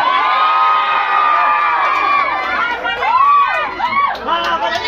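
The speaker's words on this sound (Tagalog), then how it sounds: "Kayo na pa kayo tili ng tili." A crowd at an event for Yorme Isko Moreno screams and cheers loudly, shrill voices rising and falling in overlapping waves, close and sustained throughout.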